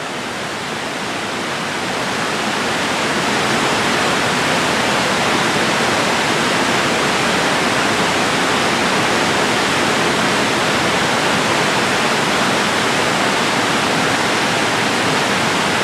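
Staubbach waterfall in the Lauterbrunnen valley roars as a steady, dense wash of falling water, loud and continuous throughout with no voices.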